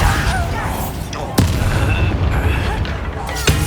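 A Bombarda spell explodes in the video game Hogwarts Legacy, sounding as a few loud sharp booms over a dense layer of game noise and effects.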